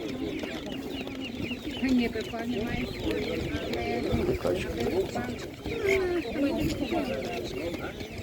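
Chickens and ducks cluck and squawk in a busy poultry market, repeated near calls scattered among other birds, with people talking over them throughout.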